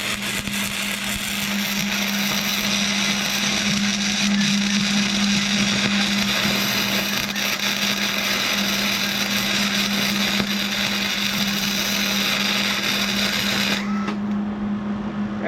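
Tack welding recycled parts into a flag holder for a Jeep, a loud continuous crackling buzz with a steady hum underneath that runs without a break for about fourteen seconds and then cuts out.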